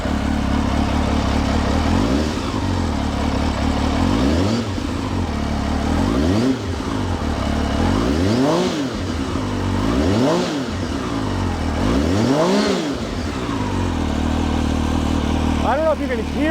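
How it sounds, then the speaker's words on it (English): A 2003 Benelli Tornado Tre 900 motorcycle with a dry clutch and a loud exhaust pipe, idling close by and repeatedly revved in rising and falling sweeps, a steady rumbling engine throughout. "There is a dry clutch for this as well, but the pipe is so loud."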